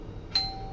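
An electric doorbell rings the moment a wire touches its terminal during a wiring test: one sudden, sharp, sustained electronic ding that rises out of a low steady hum and rings on, close by.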